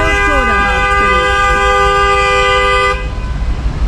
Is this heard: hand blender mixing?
no